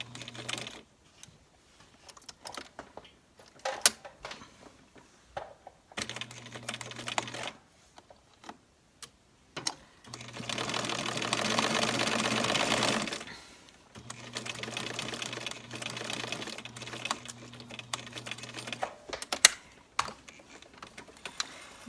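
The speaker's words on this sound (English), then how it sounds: "Make sure your machine is on a straight stitch, and we're going to sew the seam." A sewing machine runs a straight-stitch seam on a hat lining in several bursts of rapid, steady whirring. Louder runs alternate with pauses that hold fabric handling and small clicks, and no one talks.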